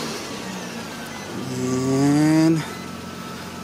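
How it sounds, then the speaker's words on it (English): A 2004 Nissan Murano with a leaking power steering system and low fluid starts up: a brief rising tonal whine of the engine catching swells loudly for about a second, then cuts off to a quieter background. "Let's start the car."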